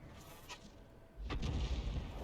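The 105 leFH18B2 self-propelled artillery gun in World of Tanks fires once, a deep, heavy boom that swells into a sustained low rumble after a faint, quieter opening.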